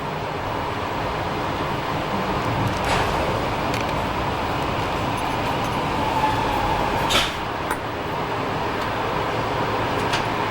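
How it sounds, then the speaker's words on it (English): A train rumbles past steadily beside a lake in Switzerland, a continuous low roar with rattling wheels and occasional squeals, fairly close. "It's called another train going by."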